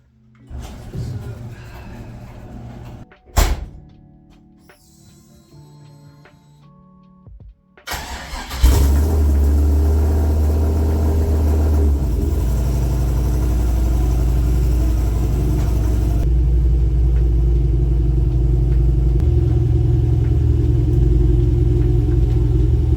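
A rotary-engined Mazda Miata started in extreme cold: a short cranking burst and some clunks, then the engine catches with a loud roar and settles into a steady, rumbling, close idle that runs on alone.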